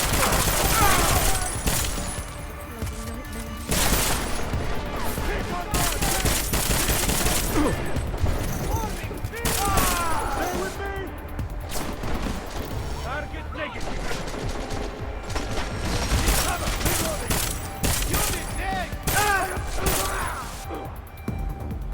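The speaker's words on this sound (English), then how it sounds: "I'm getting reports of gunfire in Apex Center." Sustained gunfire in the game Deus Ex: Mankind Divided, with dense bursts of automatic fire and heavy shots rattling almost continuously, loud and close, mixed with crashes and mechanical clatter and some voices.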